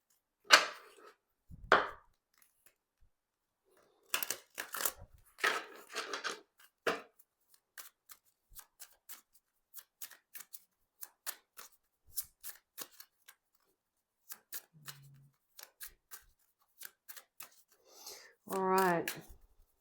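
Tarot cards being shuffled by hand in short, crisp riffling and tapping bursts, mostly alone with pauses between, with a voice speaking briefly at the start and end.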